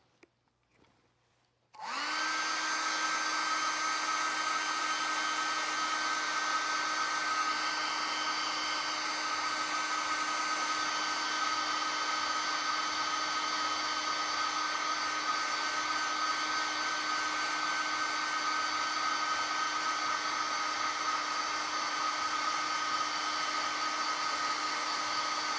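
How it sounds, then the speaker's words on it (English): A hair dryer switches on after a brief quiet moment and then runs with a loud, steady whine and airy rush, held continuously without pause. "Get that hair dryer."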